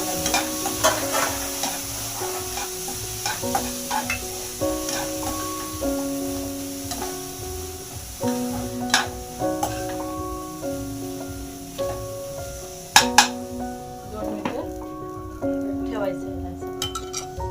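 Oil splutters and sizzles steadily in a pan while fish egg masala bhurji cooks. A spatula scrapes and clinks against the pan throughout, with sustained tonal notes playing in the background.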